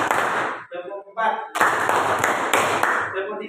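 Students clap together in rhythmic bursts during a classroom activity, the bright claps alternating with a teacher's spoken counts close by.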